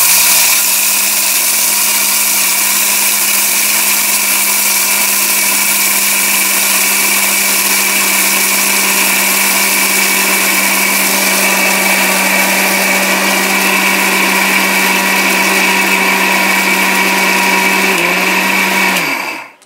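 Orpat blender grinding rice together with gram flour, a loud steady high-pitched motor whine with a constant hum, running continuously alone without talk and cutting off right at the end.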